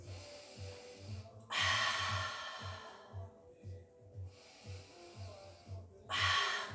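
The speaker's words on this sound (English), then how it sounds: "Big breath, inhale completely." Deep breathing during a Pilates mat exercise: two long, loud, breathy inhales or exhales separated by quieter gaps, close to the microphone, over a soft steady rhythmic background beat.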